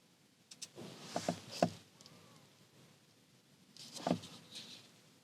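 A BAIC X55 II SUV unlocks with a few quiet mechanical clicks and clunks from its door locks, in two short clusters separated by a pause, heard faint and close.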